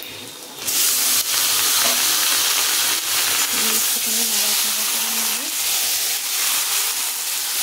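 Marinated chicken for chicken dopiaza hits a hot pan and breaks into a loud, constant hissing sizzle that carries on, with faint clatter and a brief murmur underneath.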